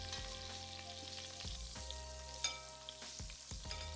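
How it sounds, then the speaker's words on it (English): Pork belly searing in a hot pan gives a steady close sizzle and crackle, broken by a few sharp pops and scraping stirs. "sear the rest of the pork belly."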